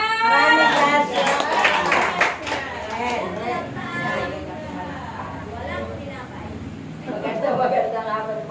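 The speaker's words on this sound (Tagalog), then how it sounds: "Maraming palakpak." Clapping from a church gathering breaks out under loud voices and singing, with the hand claps blending into the crowd noise throughout.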